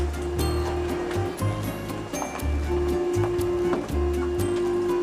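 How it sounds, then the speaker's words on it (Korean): A 3D printer lays down melted filament, its stepper motors humming and whirring steadily at close range, with rhythmic pulses as the head moves back and forth. "3D 프린터의 출력 원리가 궁금한데 그 원리를 알아보자."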